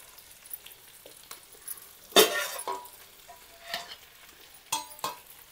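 Rice being stirred and tossed with chicken podi biryani masala in a pan, giving soft scraping, rustling and clinking sounds in irregular bursts, with one louder clank of the spoon against the pan.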